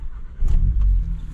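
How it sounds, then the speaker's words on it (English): A 280 bhp Volkswagen Scirocco engine cranks and fires, a short deep rumble swelling up to a steady idle, heard close from inside the car with the windows open. "let's open the windows up and let's hear the start"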